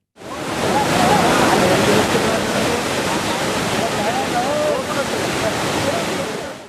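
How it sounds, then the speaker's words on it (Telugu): Floodwater pours into the Kothur Narenja reservoir project with a loud, continuous roaring rush that stays steady throughout. "కొత్తూర్ నారెంజ ప్రాజెక్టుకు వరద నీరు ఉధృతంగా వస్తోంది"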